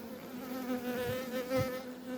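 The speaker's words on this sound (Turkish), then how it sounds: "Vızır vızır ötüyor hayvanın bir yerlerini sıkıyoruz." A single honeybee, being squeezed, buzzes loudly and close up, its drone wavering in pitch with a couple of brief rising surges.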